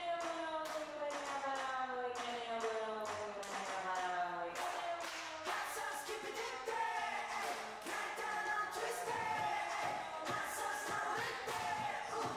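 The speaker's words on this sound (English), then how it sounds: "The claps are satisfying." Sharp claps land in a steady rhythm over loud, continuous pop music during a dance practice in a practice room, each hit cutting through the backing track.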